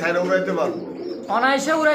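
Pigeons cooing at a farm that sells pigeons and chickens, including satinette and angel breeds: close, throaty rolling coos in two phrases with a short pause between.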